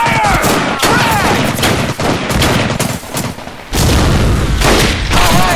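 Dense gunfire fills a World War II shooter game, Medal of Honor Pacific Assault, set at Makin Atoll: loud overlapping rifle and machine-gun bursts with booming impacts, almost continuous, brief shouts mixed in.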